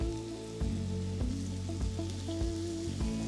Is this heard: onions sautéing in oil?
yes